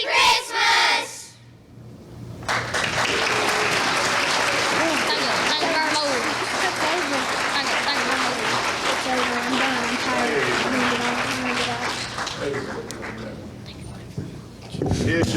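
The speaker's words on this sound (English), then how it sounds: "Let's give them one more round of applause, can we?" A church audience breaks into loud, sustained applause after a Christmas choir program, the clapping swelling and carrying on for several seconds before tapering off as a voice returns.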